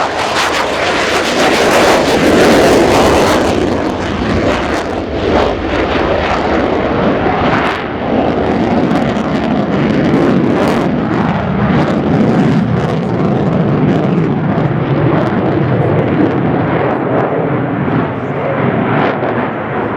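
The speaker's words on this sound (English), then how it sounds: "from the Ukrainian Air Force, the Su-27P1M" A Ukrainian Air Force Su-27P1M Flanker fighter jet roars loudly and steadily through a flying display at the RIAT airshow, its broadband engine noise filling the air throughout.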